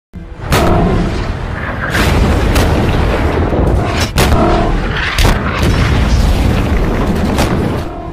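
Soviet T-34 tanks battle the White Tiger tank in a war film, with loud, heavy cannon booms repeated several times over a constant roaring battle din, close and dense, with no talking.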